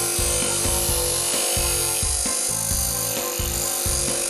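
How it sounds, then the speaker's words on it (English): A steel blade is held against a spinning grinding wheel, giving a loud, continuous, harsh grinding whine with a regular low thumping pulse underneath, and no voices are heard. "With the cutting edge in contact with the wheel, the length of blade above the finger establishes the grinding angle."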